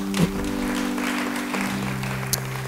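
A church congregation claps together in a steady wash of applause while sustained keyboard tones hold underneath, with a brief sharper accent near the end.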